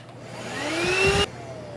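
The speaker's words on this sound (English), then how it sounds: "there's no problem at all powering this DC vacuum" A DC vacuum cleaner powered by an ALLPOWERS R600 portable power station, its motor whine climbing steadily in pitch as it spins up, then cutting off abruptly, heard close and alone.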